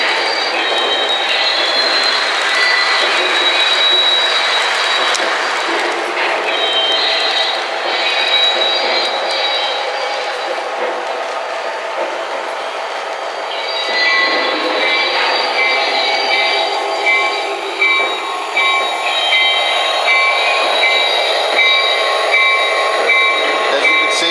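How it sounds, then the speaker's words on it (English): A Southern Pacific RS-3 model train locomotive runs steadily around the track with a continuous whirring motor and rail rumble, brighter tones swelling as it speeds up, heard alone without talk. "Another locomotive that you can play with that will run really well."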